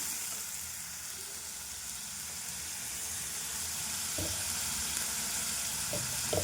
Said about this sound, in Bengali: মশলাটা কষবো, তেলের ওপর দিয়ে দিলাম, ভালো করে মশলাটাকে কষবো